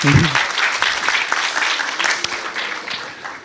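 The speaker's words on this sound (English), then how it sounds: "Please, big round of applause" Conference audience applause for panelists after a hotel investment risk panel, steady and fairly loud clapping from a crowd, with a voice murmuring over it throughout.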